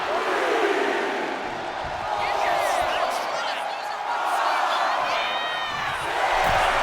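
Wrestling arena crowd cheering for Batista during a Last Man Standing World Heavyweight Championship match against The Undertaker, a loud, sustained roar with whoops and whistles, steady with slight swells.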